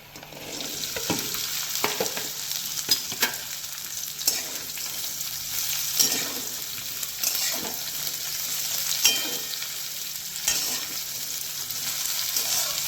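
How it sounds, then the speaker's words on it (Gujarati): Okra (bhindi) sautéing in hot oil for bhindi masala, a steady bright sizzle throughout with periodic scraping clicks of stirring, close and loud with no talking. "તે તેલમાં આપણે ભીંડાને સાંતળી લઈશું."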